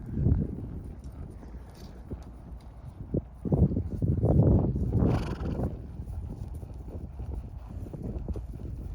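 Hooves of a horse in training being ridden and neck-reined clop over the ground in an uneven walking rhythm, close and moderately loud, with wind rumble and a brief voice in the middle.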